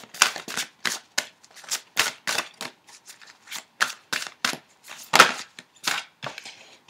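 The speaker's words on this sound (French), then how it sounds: "Ok, alors on va tirer une dernière carte." Tarot cards being shuffled by hand, a rapid run of crisp papery riffles and slaps in an irregular rhythm, close and fairly loud with no talking.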